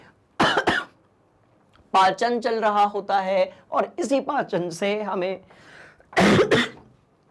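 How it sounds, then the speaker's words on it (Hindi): A couple of sharp coughs close by, followed by a person talking, then another harsh cough burst at the end. "ये जो मुझे खांसी आई ना"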